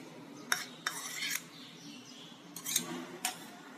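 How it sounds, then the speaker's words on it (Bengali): A spoon whisks a few spoonfuls of sour curd in a bowl for idli batter, giving a handful of sharp clinks and scraping strokes in bursts against a quiet background. "বাটিতে দিয়ে দেবো 3 চামচি টক দই, এটা ফাটিয়ে দিতে হবে 3 থেকে 4 চামচ"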